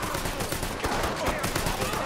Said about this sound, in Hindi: नीचे देख सकते हैं आप गोलियां धनाधन चल रही है